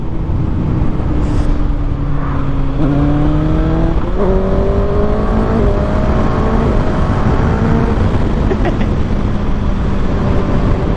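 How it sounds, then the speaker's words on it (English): An inline-four engine revs through a series of rising pulls, its pitch climbing and then stepping back between them, loud and steady over constant road and wind rush. "Oh man, that inline four just sounds so incredibly amazing."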